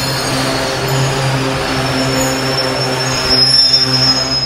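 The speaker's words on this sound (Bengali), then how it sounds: "বাবারে, ব্রেকের কি সাউন্ড!" Brakes on an old-coach intercity passenger train, the Banglabandha Express, pulling into Natore station, give a loud, sustained high metallic squeal over a deep rolling rumble, close by and without talk.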